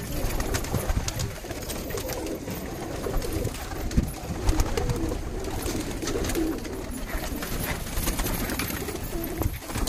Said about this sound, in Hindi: एक से एक कबूतर है भाई